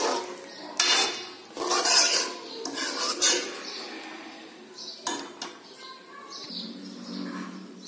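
Veg Manchurian stirred and mixed in a pan on a gas stove, with repeated metallic scrapes and clinks of a spoon against the pan, close and fairly loud, in uneven bursts.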